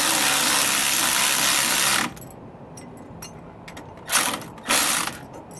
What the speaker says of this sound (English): to use a 9/16 socket for these pieces of hardware here on these U-bolts